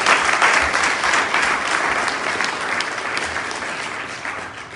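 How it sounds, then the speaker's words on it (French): Large crowd at a political rally in Milan applauding loudly and steadily, a dense wash of clapping that fades slightly over a few seconds. "Je voudrais que vous l'acclamiez si fort."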